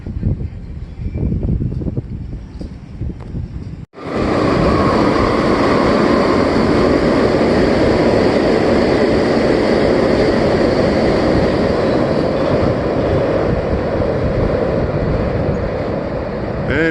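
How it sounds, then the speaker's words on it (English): After a few seconds of low rumble, a train roars past close by with a loud, sustained rushing and rattling that continues to the end. "And we did see a train."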